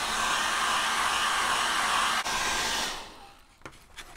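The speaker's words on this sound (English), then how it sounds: "I'm going to use my little travel hairdryer" A small travel hair dryer blows over a watercolour wash, a loud steady airy whoosh that cuts off near the three-second mark, leaving a few faint handling clicks.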